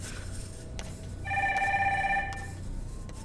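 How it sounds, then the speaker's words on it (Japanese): A telephone rings in a cartoon's Japanese dub, a steady electronic trill lasting about a second over a low background hum, with no talking. "電話鳴ってないかい？"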